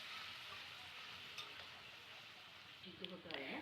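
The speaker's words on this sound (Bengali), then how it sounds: "মশলার জলটা দিয়ে এবার একটু নাড়িয়ে নেবে ভালো করে" Mustard fish curry simmering in a pan as spice water is stirred in, giving a steady soft sizzle and bubbling hiss throughout, with a few light scraping clinks of the spoon near the end.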